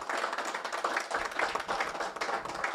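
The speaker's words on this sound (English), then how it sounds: "So a round of applause for everybody on the panel" An audience applauds a panel at a healthcare business event, with continuous dense clapping from many hands, moderately loud and steady throughout, and no one speaking over it.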